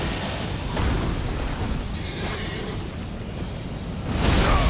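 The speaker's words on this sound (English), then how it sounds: "Ooh, that's a big explosion." A big explosion in Elden Ring, near a tree on fire, gives a loud, sustained roaring rumble with a few swelling bursts throughout, ending in a stronger surge.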